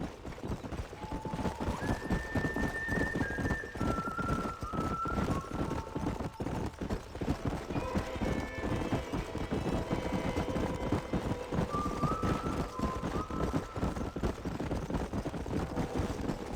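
Video game horses from Red Dead Redemption gallop nearby, hooves clip-clopping steadily, with occasional whinnies cutting through the rhythmic pounding.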